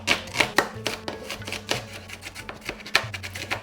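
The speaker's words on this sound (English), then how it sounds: "chop up a medium-sized onion" A medium-sized onion roughly chopped with a dull knife on a board, giving irregular, close, crisp knocks with a low hum underneath.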